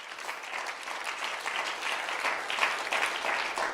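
Loud, sustained applause from a church congregation during a sermon, dense steady clapping filling the whole stretch without a break.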